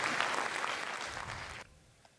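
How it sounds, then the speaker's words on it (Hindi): Audience clapping at a Hindi kavi sammelan poetry event in Sanchor, Rajasthan, a brief burst of moderate applause that thins and cuts off abruptly near the end. "तालियां बजा दो एक बार"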